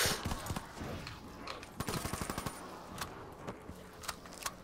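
Rapid gunfire rattles through a Minecraft custom zombies game, bursts of quick clicking shots in uneven clusters over a dense, noisy game background.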